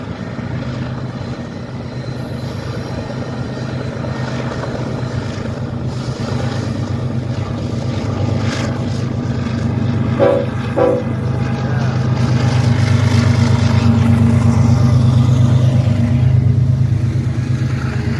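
A train moves through the Fort Madison depot with a continuous loud rumble of rolling cars. A short horn blast cuts in partway through, and the heavy engine drone swells toward the end.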